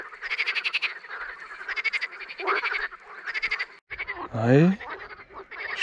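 Many frogs croak near a river in remote wilderness during boat fishing, rapid trilling calls repeating in loud overlapping bursts, with a brief voice heard once.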